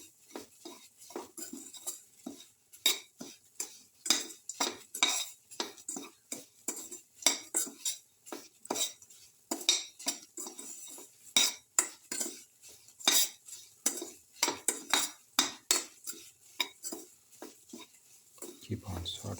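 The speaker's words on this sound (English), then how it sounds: "Thoroughly saute mix." A spoon stirs and scrapes semolina soup mix sautéing in a pan, with dense, steady metallic clinks and scrapes repeating close up throughout and no voices.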